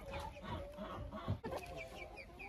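Backyard hens cluck and murmur steadily at close range while being fed apples, their soft overlapping calls filling the whole stretch with occasional louder squawks.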